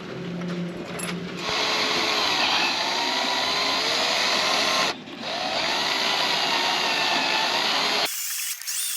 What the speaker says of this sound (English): I've just drilled the holes, and now we're gonna see what happened.